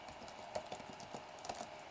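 Computer keyboard typing while entering Python code, a handful of light, irregular key clicks spaced across a quiet room with faint background hiss.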